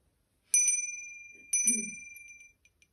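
Small bell struck twice at the end of an exercise, each ring clear and bright with a ringing decay, the two strikes about a second apart in a quiet room.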